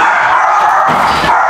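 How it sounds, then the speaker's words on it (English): A pet dog barks indoors in a home, a loud, steady vocal sound filling the short moment with no talk over it. "My dog's barking."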